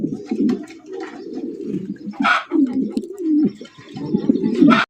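Maltese pigeons coo repeatedly in low, throaty rolls, close by, with a few brief chirps mixed in among the birds.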